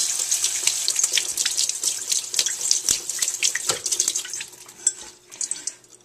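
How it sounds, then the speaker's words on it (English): Running tap water pours over cooled ramen noodles in a kitchen sink, a steady close hiss with scattered clinks and splashes of dishes that softens toward the end. "we'll just kind of give them one more rinse."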